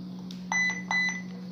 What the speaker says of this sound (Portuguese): Ela bipou, já falou que já está conectada, né? Ouviu o bip, né?